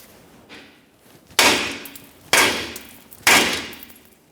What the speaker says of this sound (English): just use a hammer along this area. A couple light taps should break it free.